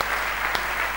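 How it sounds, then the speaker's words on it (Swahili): A church congregation applauding during a sermon, a brief burst of continuous massed clapping with one sharper accent in the middle. "makofi juu ya neno la Bwana Mungu wetu."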